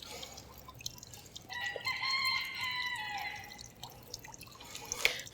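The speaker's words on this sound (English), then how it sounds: "I'm sure you guys can hear the roosters in the background." Roosters crowing at a distance outside on a quiet morning, one long drawn-out crow carrying over soft ambient hiss with a faint drip, no voices present.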